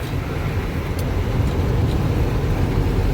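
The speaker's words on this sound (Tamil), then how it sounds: "எவ்வளோ டிராஃபிக் பாருங்கள் பைக்கெலாம் நிறைய போயிட்டுருக்கு" Heavy city road traffic with many motorbikes passing makes a continuous rumbling roar close by, steady for the whole stretch with no talking.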